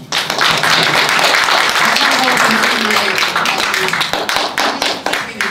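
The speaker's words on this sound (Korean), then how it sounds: "다시 한번 감사의 박수 부탁드립니다" An audience at a Buddhist university club anniversary event applauds in a dense burst of clapping that builds quickly, holds steady up close, then thins out as individual claps trail off.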